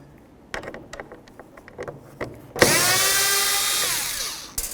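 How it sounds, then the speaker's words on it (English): Several light clicks and taps lead into a power driver whirring up loudly to back out a T20 bolt from a Jeep Liberty window regulator, spinning steadily for about two seconds before stopping, followed by a final clack. "we're going to remove these 3 bolts, and they're T20"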